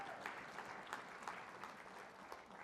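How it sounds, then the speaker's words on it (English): A small group claps steadily, scattered and moderately quiet, with no one talking over it. "Clap it up for John."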